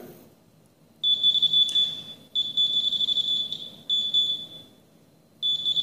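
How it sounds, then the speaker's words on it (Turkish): A ThruScan DX hand-held metal detector sounds its electronic alert while passing over a small paper clip: a steady high-pitched tone in several sustained bursts with short gaps between, loud and close, with no talking. "Cihazımız algılama yapar ve ekrandaki ışıklarla da sesin şiddetine göre size uyarı verebilir."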